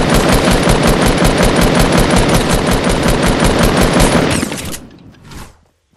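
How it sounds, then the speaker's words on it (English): Fortnite gunfire: a loud, rapid, continuous automatic burst of evenly spaced shots running close for over four seconds, then cutting off and fading into a brief quieter tail. "That was shooting all of us."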